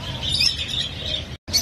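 Caged songbirds chirp and tweet busily and continuously at close range in a bird market, a dense high twittering with a brief gap near the end.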